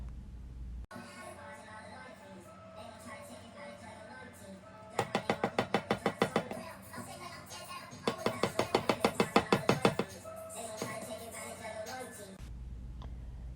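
Filled 8-ounce jars of homemade body butter are knocked against a surface to settle out air pockets, giving two quick bursts of rapid, evenly spaced thuds over background music.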